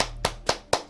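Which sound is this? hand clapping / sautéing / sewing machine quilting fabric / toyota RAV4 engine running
hand clapping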